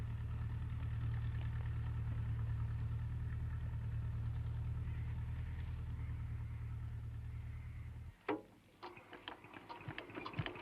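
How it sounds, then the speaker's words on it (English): A small donkey engine pumping water up from a creek runs with a steady low drone and rapid ticking for about eight seconds, then cuts out, leaving scattered clicks and knocks. "A small donkey engine pumps up water from the creek to provide moisture for the grass cuttings."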